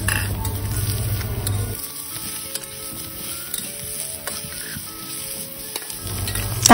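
Shrimp and white tongue mushrooms stir-fry in a pan with a loud, steady sizzle, while a utensil scrapes and clinks against the pan at irregular intervals.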